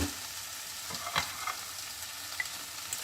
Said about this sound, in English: We've got turkey heating where the egg whites were cooking, and we've got the spinach sauteing a little bit over here too.